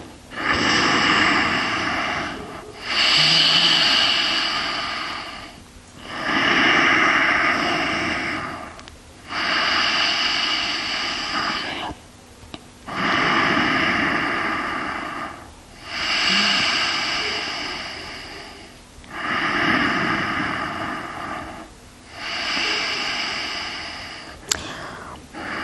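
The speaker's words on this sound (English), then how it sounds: "Your Ujjayi breath is activated by deep inhalations through your nose, constricting the back of your throat" Ujjayi yoga breathing drawn and released through the nose with a constricted throat, a soft ocean-like rasp in about eight slow, even cycles of inhale and exhale, close and steady with no talking.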